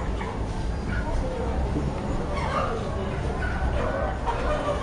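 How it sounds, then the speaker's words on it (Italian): Many chickens clucking and squawking together at a crowded poultry market in Bintulu, with a constant busy din and occasional louder calls. "questo è il mercato dei polli"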